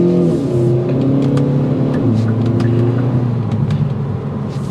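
A 2024 Kia Forte GT pulling away hard from a stop, engine note rising loud and close through the gears with a clear dip at a shift, then continuing to climb before easing off.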